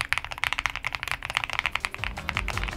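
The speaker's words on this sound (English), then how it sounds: "this is a creamy, foamy keyboard geared towards those that like that sound profile" Typing on a Choice65 custom mechanical keyboard with a creamy, foamy sound profile gives a rapid, close, steady patter of soft, deep keystrokes.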